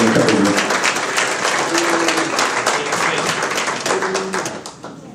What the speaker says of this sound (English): Everybody give a round of applause for the mayor, Jacob Fry